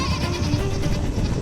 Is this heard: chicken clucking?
no